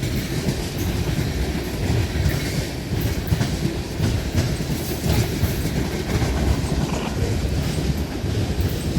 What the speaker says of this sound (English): it's the second rubbish train I caught on its way to Fostoria